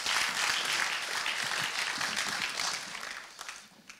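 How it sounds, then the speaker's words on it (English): An audience at a live startup event applauds, a dense burst of clapping that holds strongly for a few seconds before tapering off. "Round of applause."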